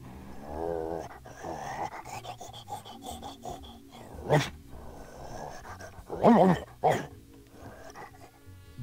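Dog in the video game Dog Mendonça & Pizzaboy growls and grumbles in low rasping bursts, with a few louder snarls near the end, mixed with a voice talking.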